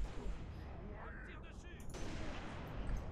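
Sniper rifle fire in Halo: Reach, a sharp shot among dense game battle noise and gunfire, with talking over the top throughout.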